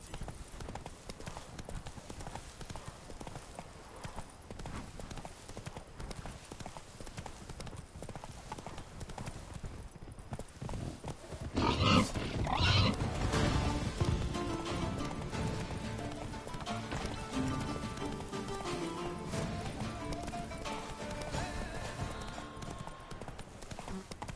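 Roach the horse galloping in The Witcher III: Blood and Wine, with steady rhythmic clip-clop hoofbeats throughout that grow louder and fuller about halfway through, along with faint background speech.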